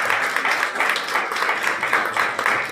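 A church congregation claps for the Lord during a sermon: a sustained wash of many hands clapping at a steady, even level for a few seconds, with no voices over it.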